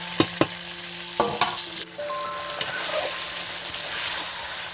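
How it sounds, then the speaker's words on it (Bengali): Chicken pieces for biryani stirred through spices in hot oil, with a steady frying sizzle, a few sharp scraping knocks of the spoon against the pan early on, and no talking. "চিকেনটা এইরকম মশলাতে ভালো করে একটু নেড়ে চেড়ে নিতে হবে"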